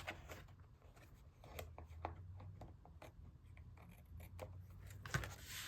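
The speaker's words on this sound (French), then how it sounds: "j'ai envie de couper ce qui dépasse ici." Scissors snipping scraps of paper trimmed for a collage, a run of quick, soft, close cuts and rustles at an uneven rhythm, fairly quiet, with faint background noise.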